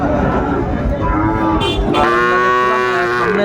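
Cattle at a Dinajpur livestock market, including Sahiwal breed bull calves, low a few times in loud, drawn-out moos. Dense market noise fills the background with no clear talk.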